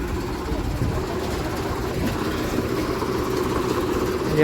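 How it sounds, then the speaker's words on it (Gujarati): A tractor engine idles and runs nearby outdoors, a low steady rumble that swells slightly toward the end, with faint voices in the background. "ટ્રેક્ટર આવી ગયું છે"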